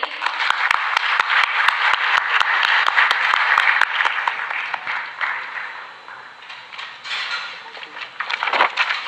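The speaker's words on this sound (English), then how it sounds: "So in your huge round of applause, please welcome the very graceful and talented Ms. Fajr Nadeem." Applause at an international chartered accountancy student conference in Pakistan as a speaker is welcomed: a burst of claps from the audience with sharp individual claps standing out, fading after a few seconds into murmuring and rustling room noise.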